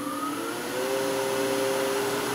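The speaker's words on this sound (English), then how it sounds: "So, let's switch the lathe on." A wood lathe switched on and running, a steady whirring motor drone with a tone that rises slightly as it spins up, loud and close, no talking.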